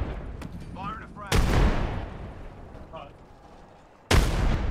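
Frag grenades in Apex Legends go off as two sharp, loud blasts, one early and one near the end, each with a rumbling tail, with brief voices and game noise between them.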